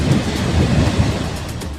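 Heavy monsoon rain pours down in Bundelkhand, Uttar Pradesh, a loud, dense, continuous roar with a deep low rumble and no pauses, filling the whole stretch.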